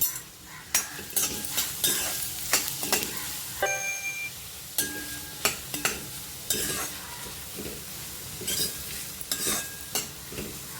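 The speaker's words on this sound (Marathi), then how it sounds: "कांदा थोडा परतून घ्यायचा आहे त्याचा कच्चटपणा जाईपर्यंत गुलाबी रंगावर" Onion and green chili sauté in a pan for veg Schezwan fried rice, with a steady sizzle under repeated close metallic scrapes and clinks of a spatula stirring, and no speech.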